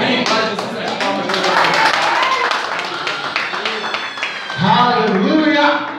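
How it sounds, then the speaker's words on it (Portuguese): Clapping from a church congregation during a Portuguese-language worship service, rhythmic and fairly loud, mixed with voices and a busy, reverberant background. "As palmas"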